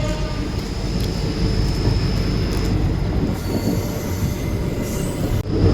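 The 13466 Intercity Express train rumbles steadily along the rails, with a constant low roar and faint squealing from the wheels throughout.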